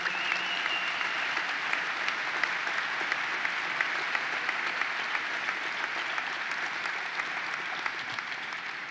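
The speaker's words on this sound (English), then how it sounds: "let's give them all a round of applause." A crowd applauds at a state fair opening ceremony, continuous even clapping from many people heard at a distance in a large outdoor setting, holding steady throughout without speech.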